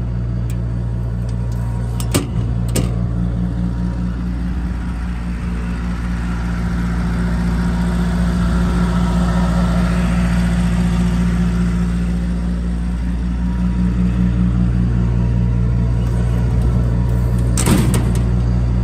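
Trailer-mounted generator with a built-in hot-air blower, running steadily with a loud, constant low engine drone and hum throughout, close by, punctuated by a few sharp clicks or clunks.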